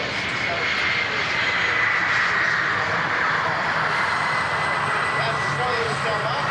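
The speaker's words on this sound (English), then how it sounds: "KC-135. Just touching down here on runway 33 off to our right." KC-135 tanker aircraft touching down on runway 33 at an outdoor airshow in London, Ontario, with a loud continuous engine roar and rushing wash throughout and a voice speaking beneath it.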